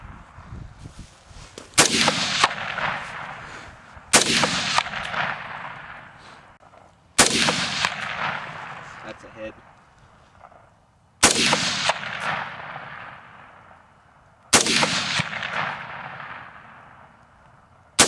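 Rifle fire in 5.56x45mm aimed at a cinder block wall at an outdoor range: five sharp, loud shots spaced a few seconds apart, each with a ringing echo that decays before the next.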